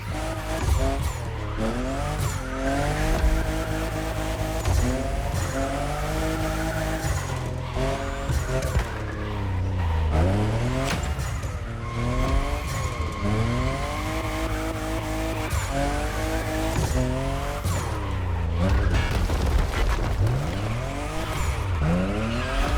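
A fifth-generation Toyota Supra racing and drifting in The Crew Motorfest video game, with a loud, continuous engine roar, repeated tire squeals and rising and falling revs throughout.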